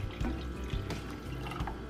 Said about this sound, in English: Then add your water.